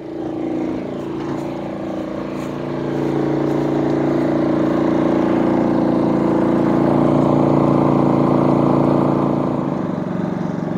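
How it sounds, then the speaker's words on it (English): A Craftsman 3300-watt gasoline portable inverter generator runs under full load, its engine droning loud and steady up close, then climbing to a higher, sustained revving pitch as the load kicks in. "I really want you guys to see how the generator reacts to the load"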